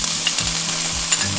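Sliced bacon fries in a hot stainless steel pan with oil, a loud close sizzle broken by quick scraping stirs and sputtering pops over a short stretch.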